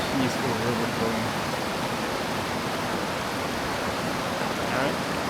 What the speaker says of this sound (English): You could just sit here and listen to the peaceful river flowing.